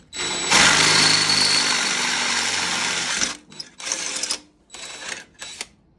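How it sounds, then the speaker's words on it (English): A power drill with a 3/16 drill bit bores out holes in the steering gearbox of a 1963 Chevrolet Impala convertible. A steady, loud grinding whine runs for about three seconds, then three shorter bursts follow with brief pauses between them. "You need a 3/16 drill bit, and you gotta drill out the holes a little bit bigger."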